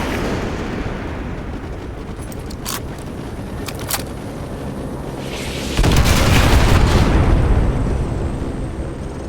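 Artillery strikes pound the battlefield in the 2009 game Modern Warfare 2, a loud, sustained rumble of explosions and booms that swells and thickens partway through, with no speech over it.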